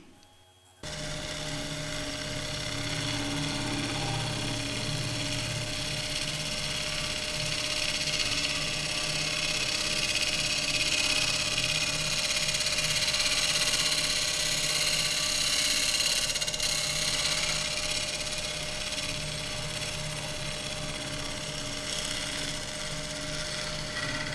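A bowl gouge makes a shear cut on a wood lathe, a steady continuous hum of the spinning machine with a soft hiss of fine shaving, unbroken and close for the full length.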